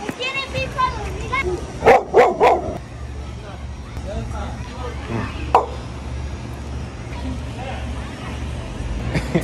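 A dog barks in a quick cluster of three or four sharp, close barks, followed by a single later bark, over steady background noise while people talk nearby.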